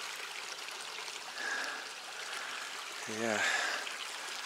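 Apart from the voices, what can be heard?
Mill Creek stream running water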